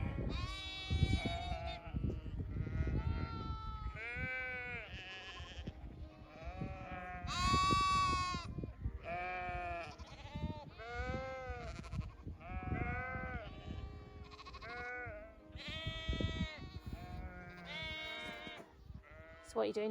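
Sheep ewes and lambs bleat repeatedly out on the fell, a flock calling back and forth in overlapping high and low cries, some near and loud, others farther off, with a faint voice briefly in the background.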